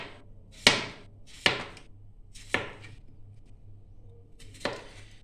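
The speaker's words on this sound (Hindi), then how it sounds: "सबसे पहले हम आलू को इस तरीके से हम काट लेंगे।" A knife slices through potatoes on a cutting board to make chips: four sharp, separate chops spaced about a second apart, close and clear with no talking.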